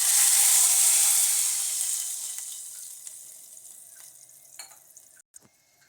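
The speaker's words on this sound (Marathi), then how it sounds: "आता याच्यामध्ये पाणी टाकू" A sudden loud hissing burst as water hits hot oil tempered with mustard seeds, asafoetida and curry leaves in a kadhai, the sizzle fading steadily over several seconds into quiet with a few soft clinks.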